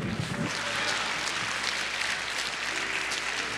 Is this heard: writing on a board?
no